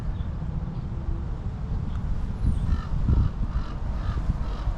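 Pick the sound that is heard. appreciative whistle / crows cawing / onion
crows cawing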